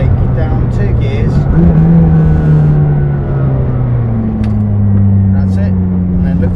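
A supercar engine drops two gears on a track at Silverstone, its loud rumble rising in pitch as it pulls through the corner, heard from inside the car while an instructor talks throughout.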